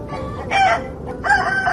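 A rooster crows twice in quick succession, a loud, close, strained call with a rising and falling tone, heard alone over a faint background hiss.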